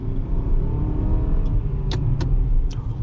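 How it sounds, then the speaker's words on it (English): A 2022 Mitsubishi RVR compact SUV accelerates in low gear, its 148-horsepower engine giving a steady, close, droning rumble from inside the cabin, with a few short sharp clicks near the end. "all 148 horsepower is activated to all 4 wheels, pushing this thing at incredible pace for an SUV this large"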